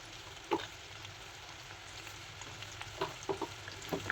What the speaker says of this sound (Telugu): ఇది పచ్చివాసన పోయేంత వరకు మనం మగ్గనివ్వాలి పచ్చిమిర్చిని